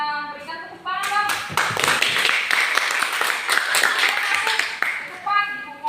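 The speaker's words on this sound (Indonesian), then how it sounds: "Berikan tepuk tangan." A classroom audience claps together for three prize winners, a dense burst of applause filling most of the moment, with a voice speaking briefly before and after.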